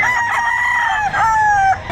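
A rooster crows loudly nearby at a poultry sale in Batangas, one long drawn-out call that breaks into a second stretched note.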